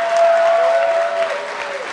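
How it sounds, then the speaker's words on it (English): A crowd at an esports match between TSM and Vulcan at PAX NA Regionals 2013 applauds in a loud, dense, continuous wash that slowly tapers off, with a faint steady tone running underneath. "they've been clapping all along"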